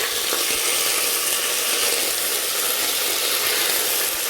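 Meat dropped into already hot cooking oil sizzles and spits steadily, a loud, continuous crackling fry close by with no talking.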